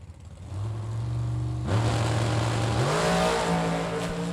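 A naturally aspirated big block Chevy drag car idles with a low rumble, then its engine note climbs in two distinct steps to a loud, steady, high-pitched roar at the drag strip.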